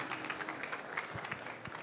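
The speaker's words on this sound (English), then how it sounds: "little applause for Romain" A small seminar audience gives a brief, light round of applause, scattered claps of modest loudness heard at a short distance.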